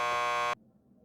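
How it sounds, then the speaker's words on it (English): A door buzzer in the video game Max Payne 2 gives one steady, loud electronic drone for about half a second, then cuts off sharply into quiet room tone. "Just press the buzzer by the door."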